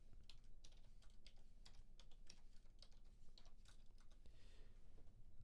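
A password typed on a computer keyboard, heard as a fast, close run of light clicking keystrokes with a few brief gaps, soft and alone over faint background noise.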